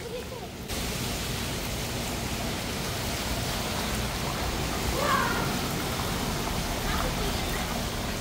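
Heavy rain falling on a street in Saudi Arabia, a dense, steady wash of hiss that runs evenly throughout after a brief quieter start, loud and close.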